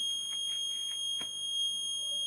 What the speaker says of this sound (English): an active buzzer will be used for sounding an alarm in case of incorrect power